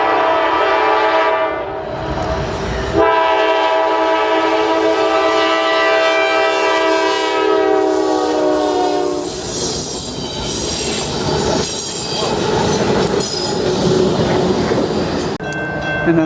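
A freight train's air horn blares in long, loud sustained chords, sounding almost continuously and close by, with a brief pause near the start and shifting tones toward the end, as the train passes a railside spot in Austell and Mableton.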